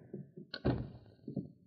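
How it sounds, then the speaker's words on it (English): A door shuts with a single solid thunk in a 1950s Yukon radio drama, loud and close, followed by quieter low movement and scuffing. "Come on out and close the door."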